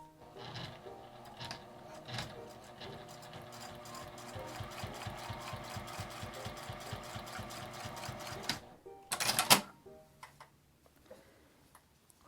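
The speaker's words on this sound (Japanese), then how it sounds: "端ミシンをかけます。" A sewing machine runs an edge stitch along fabric for a coin purse, a fast even rattle of needle strokes for about eight seconds, then a brief clatter and a few scattered ticks.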